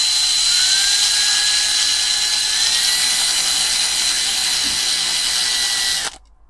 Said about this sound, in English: I got to drill my rivets out